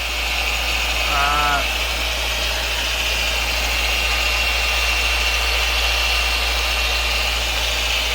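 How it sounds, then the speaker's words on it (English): Polishing buffer runs steadily against car paintwork, working out a scratch on the body; a loud, constant mechanical drone with a low hum, unbroken throughout. "Let the buffer do its work."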